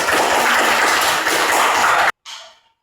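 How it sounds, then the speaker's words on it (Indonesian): A class of schoolchildren claps together in a steady, dense burst of applause for about two seconds. It cuts off abruptly, and a short fading tail follows. "Tepuk tangan sekali lagi."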